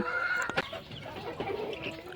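Chickens being kept and cared for on a farm cluck softly and continuously, with a sharper squawk around the midpoint of a short, steady stretch.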